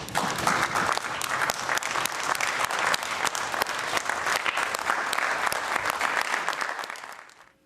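A UK crowd applauds in support of Ukraine after a speech, loud sustained clapping with crisp individual claps throughout that fades out abruptly at the close.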